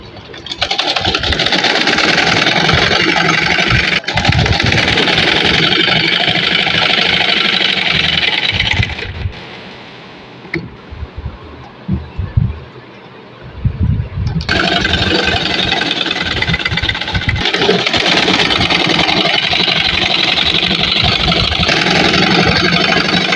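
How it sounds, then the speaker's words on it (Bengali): A sewing machine stitches the side seams of a kameez with a loud, steady motor whir that pauses for a few seconds midway and then resumes running continuously. "এখন 2 সাইড সেলাই করব।"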